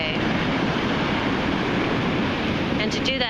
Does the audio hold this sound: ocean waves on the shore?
yes